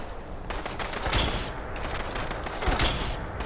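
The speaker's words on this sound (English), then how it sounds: "doing some damage with that Gauss rifle" Gauss rifle shots ring out in Fallout 76, two heavy cracking blasts about a second and a half apart over a busy, rumbling combat backdrop.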